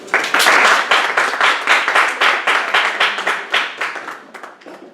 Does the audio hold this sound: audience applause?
yes